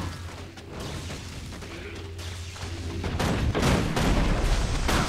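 Gunfire in the Guild Wars 2 video game crackles as a dense, rumbling barrage. It builds louder over the last couple of seconds into sustained rapid bursts, with no speech.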